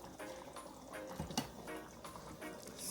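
Rice is rinsed in water by hand in a home kitchen, quiet splashing and sloshing in short repeated swishes, with a few brief louder slaps and drips.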